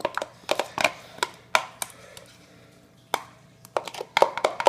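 A cup of mayo goes into a bowl as a series of soft, wet plops and spoon knocks in irregular bursts, close and fairly loud, with brief quiet gaps between them.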